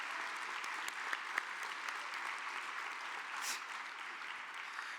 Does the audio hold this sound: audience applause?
yes